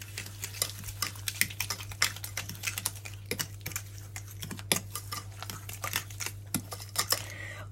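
Dough with a whole egg is worked and mixed by hand, producing a quick, irregular run of close, sticky slaps and clicks over a steady background hum.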